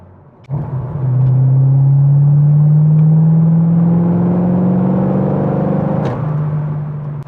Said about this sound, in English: let me drop it down a gear so you can listen to this beast